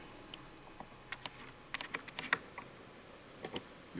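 Typing an Excel formula on a computer keyboard, a sparse series of distinct close key clicks with irregular gaps and a small cluster in the middle, quiet, no talking.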